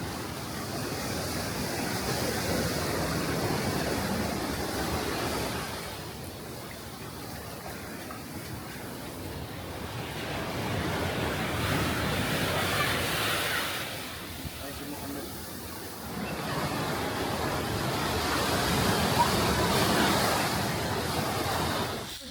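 Sea waves surge into a coastal cave in southern Morocco, loud washes of surf swelling and receding every few seconds, with wind buffeting the microphone.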